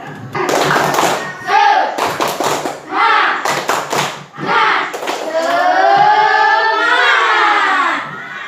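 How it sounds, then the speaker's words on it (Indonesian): Students do a rhythmic spirit clap (tepuk semangat) in a classroom, bursts of loud close clapping and thumps in a patterned rhythm, mixed with children's voices chanting along. "coba kita tepuk semangat dulu ya, biar tambah semangat"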